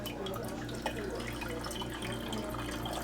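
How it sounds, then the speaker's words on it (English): Water pours steadily into the chill tank of a Keurig K Brew and Chill coffee maker, making a continuous trickling splash against low background hum. "So I'm going to add some more water in here"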